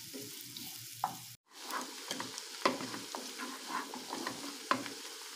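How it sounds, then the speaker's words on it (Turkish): Onions frying in butter and oil, stirred in the pan: a soft close sizzle punctuated by several sharp spoon scrapes and knocks, with one brief dropout midway. "şöyle tereyağında soğanlarımızı kavuruyoruz"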